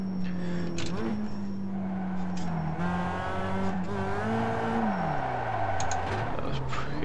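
A car in a racing video game on the Charlotte road course, its engine tone rising and falling through shifts with brief tire squeal, while a person talks over it.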